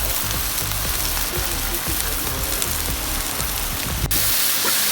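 Shrimp sizzle steadily on a hot Blackstone griddle, with a dense, close frying hiss and crackle throughout.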